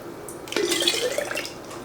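Water being ladled from a Presto Precise digital pressure canner with a quart-sized jar, a short close splash and pour with trickling and dripping for about a second, after a quiet start.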